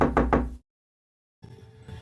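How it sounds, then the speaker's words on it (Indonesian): Three quick, heavy knocks on a front door at night, close and loud, then sudden silence before a low, dull rumble returns. "Terdengar suara ketukan dari pintu depan itu."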